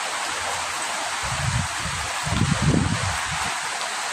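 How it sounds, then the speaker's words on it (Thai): Rain begins falling outdoors over a freshly planted water spinach plot as the sky darkens and wind picks up, a steady wash of hiss with soft low patters swelling in the middle. "เม็ดฝนก็ลงมาแล้วเรียบร้อยนะนี่ค่ะ"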